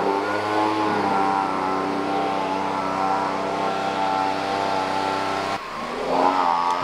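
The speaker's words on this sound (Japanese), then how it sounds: "これ今ブンブン鳴ってるのはブロワーの音ですね。" A leaf blower engine hums steadily throughout at a constant pitch on temple grounds, briefly dipping near the end before picking back up, fairly close.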